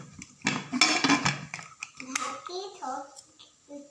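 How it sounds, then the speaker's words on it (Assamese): A metal pressure cooker lid is fitted onto the pot while olive jam is cooked, giving a burst of clanking and clattering metal up close. Speech follows. "আৰু এতিয়া মই প্ৰেছাৰ কুকাৰ হাফখন লগাই দিছোঁ।"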